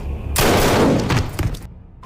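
Gunfire in a sniper film scene: a loud, dense burst of shots lasting over a second, followed by a quick trailing shot and then sudden quiet.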